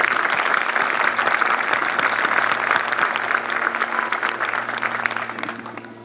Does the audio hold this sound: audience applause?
yes